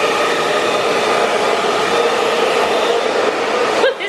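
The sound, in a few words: hair dryer blowing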